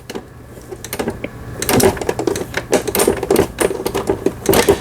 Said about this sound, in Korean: XL 30300이라는 제품 수리를 마치고 박음질하는 영상이었습니다